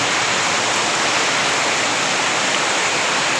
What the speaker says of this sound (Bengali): আরে বৃষ্টি হইতেছে দেখছেন